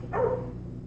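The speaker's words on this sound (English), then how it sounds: "Dog." A baby toy's animal sound mode gives one short, sharp dog bark, over almost as soon as it starts, against a low steady hum.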